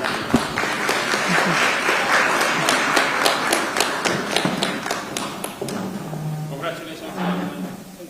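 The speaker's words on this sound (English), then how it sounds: "Let's give that another round of applause." Audience applause following the signing of a $1 billion loan letter of intent: a dense, steady round of clapping that fades toward the end as a voice begins speaking.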